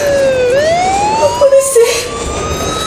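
Police patrol car sirens wail loudly and close, rising and falling in pitch during a workplace robbery, while a frightened voice speaks briefly over the sirens.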